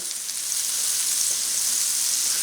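Unsalted butter sizzles steadily in a pan beside corned beef hash, a close, continuous bright crackle and hiss with no voices.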